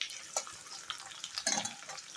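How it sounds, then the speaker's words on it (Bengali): Chopped onion and garlic fry in a pan with chillies, a quiet steady sizzle broken by brief stirring scrapes and clacks. "এবার পেঁয়াজ রসুনটাও ভালোভাবে ভেজে নেব।"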